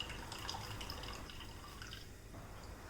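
Water drips from freshly squeezed chhena curd being pressed for homemade rasmalai, soft scattered drops and trickles over a faint, steady background, with no talking.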